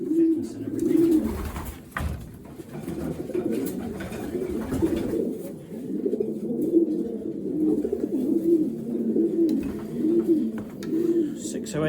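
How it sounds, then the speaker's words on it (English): Racing pigeons coo in a loft, with repeated soft, low throaty calls overlapping over a steady background and a faint voice at times. "This is a Johnny Panis pigeon"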